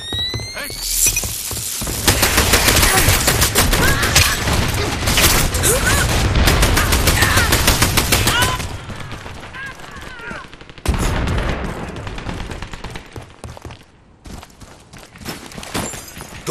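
Gunfire in the video game Dirty Bomb, loud rapid automatic bursts rattling continuously for several seconds, then thinning into scattered shots and sharp impacts, with a voice talking over the action.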